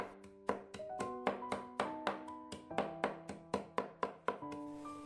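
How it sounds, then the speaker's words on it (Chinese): Cooked spinach is chopped finer with a knife on a cutting board, a rapid, steady run of sharp thunking strokes, close and distinct, with no talking. "再给它剁得碎一点，吃起来口感会更好。"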